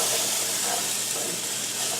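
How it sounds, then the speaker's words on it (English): Potatoes frying in hot oil on medium heat, giving a steady, dense hiss and crackle that holds evenly throughout without pause. "So you want it to sizzle."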